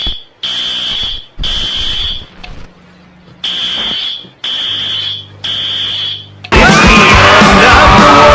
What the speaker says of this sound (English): if you hear the fire alarm